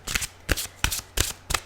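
A deck of tarot cards is shuffled up close in five quick, crisp riffling bursts at an even rhythm, soft and alone without speech.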